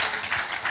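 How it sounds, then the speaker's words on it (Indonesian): A church congregation applauds, a brief dense wash of many hands clapping at close range with no other sound over it. "Mau tepuk tangan buat Tuhan."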